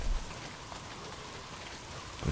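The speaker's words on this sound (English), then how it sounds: "I gotta hate hunting in the rain." Steady rain falls in the Days Gone video game, a soft continuous hiss of drops at an even level across the whole stretch, with no voices.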